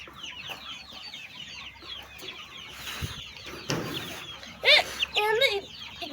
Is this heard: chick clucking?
yes